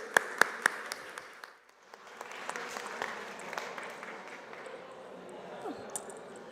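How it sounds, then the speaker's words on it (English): A conference audience at an AI user event welcomes a speaker with applause: a few sharp, separate claps at first, then a brief lull before softer, scattered applause resumes and carries on at a modest level. "Let's give Sophia a round of applause."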